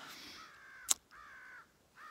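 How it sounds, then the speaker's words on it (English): Crows give three drawn-out caws in sequence, moderately near, with a brief sharp click between the first and second calls and no talking. "I hope you can hear those crows."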